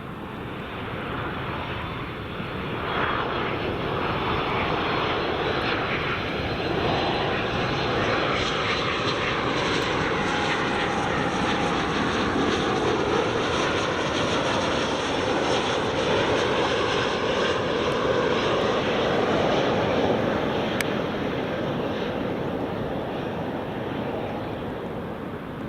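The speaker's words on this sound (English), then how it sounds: "There's a Ryanair Max." A Ryanair Boeing 737 MAX jet airliner roars past at an airport, a loud sustained engine rumble that swells and fades slowly over about twenty-five seconds, with no talk.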